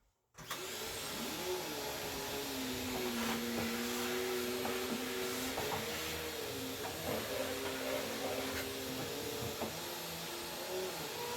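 A vacuum cleaner runs steadily and loudly during a bathroom vanity top replacement, a constant motor drone with a slight pitch wobble, switching on at the start and continuing without a break.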